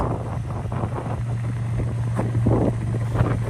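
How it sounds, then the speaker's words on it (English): Wind blowing outdoors, buffeting the microphone as a steady, loud rumbling roar with slight gusty swells throughout and no voices. "it's pretty windy right now"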